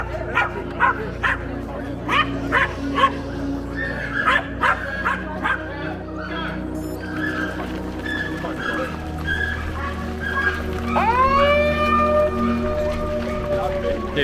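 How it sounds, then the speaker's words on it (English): Dogs at a forest parkrun start in the Forest of Dean bark, yip and whimper repeatedly over crowd chatter, with one dog's rising whines standing out near the end. "I couldn't hear for all the doggy noises."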